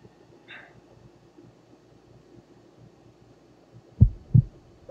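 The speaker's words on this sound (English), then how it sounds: "Heartbeat. Not creepy at all." In the video game The Infectious Madness of Dr. Dekkar, a heartbeat sound effect thumps twice, a loud deep lub-dub near the end after several seconds of low quiet hum.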